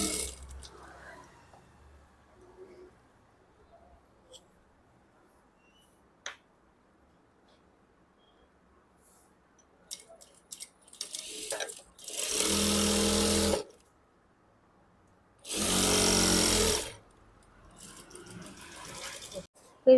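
A sewing machine hemming a blouse sleeve runs in two loud bursts of about a second each, separated by a pause and preceded by quiet handling and faint tapping.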